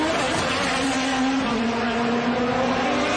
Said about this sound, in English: I'm sorry, but the cars are just too loud.